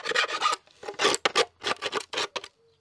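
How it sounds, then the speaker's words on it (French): A multitool file rasps across metal in quick, uneven strokes, each a short gritty scrape with brief pauses between, close up. "On sent le bruit. Ouais, ça lime bien."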